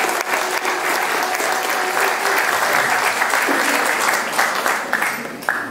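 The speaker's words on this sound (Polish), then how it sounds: "Duże brawa dla niego." Warm applause from the audience at a concert by a seniors' vocal group honouring soldiers in Siedlce, dense sustained clapping throughout that tapers slightly near the end.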